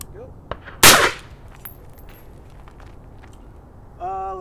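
A rifle fitted with an over-barrel suppressor fires a single sharp, loud shot heard from the shooter's ear, followed by quieter clicks and handling noises and a brief electronic beep.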